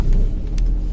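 A Fiat Doblo creeps over a rough forest track, giving a low engine rumble and throbbing drone close by, with faint knocks and rattles from the body, no voices.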